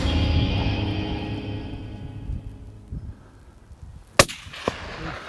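A single sharp, loud gunshot cracks out while hunting red stag and fallow deer in New Zealand, followed by a smaller report, after a stretch of low outdoor rumble.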